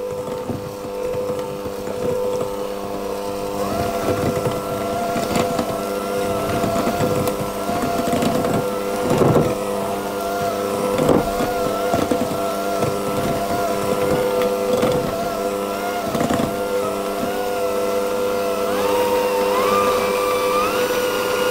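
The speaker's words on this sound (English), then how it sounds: "I'm just going to mix those around until they're combined" A kitchen mixer combining rice flour, salt and hazelnuts for shortbread, a loud steady motor whir with a droning hum and knocking rattles throughout, pitch shifting slightly near the end.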